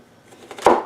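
A knife chopping carrots into matchstick strips on a cutting board, a quiet lead-in followed by one sharp, close chop near the end.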